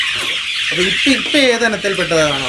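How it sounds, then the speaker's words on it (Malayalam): Rainbow Rooster laying hens cluck and squawk at a busy poultry farm, many birds calling in overlapping bursts over a constant dense background din. "ഇതിപ്പോ റെയിൻബോ റൂസ്റ്റർ പെട്ട മുട്ടക്കോഴികളാണ്"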